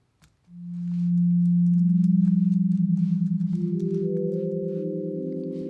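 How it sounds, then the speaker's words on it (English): A pure, smooth synth tone swells in and holds steadily, with a second higher tone joining later, soft and round without any edge. "It's a really soft tone, round and soft, just a perfect sine wave."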